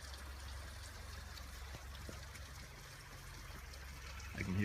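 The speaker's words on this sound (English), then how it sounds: "I can hear a little waterfall on the other side." Small waterfall on a river trickling softly in the distance, a faint continuous wash of water with a light knock near the end.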